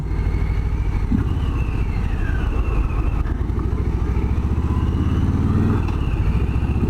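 A 2020 Harley-Davidson Softail Standard cruiser motorcycle drones steadily on the road while leaning into bends, a low rumbling hum with slight rises in revs, close and continuous with wind noise.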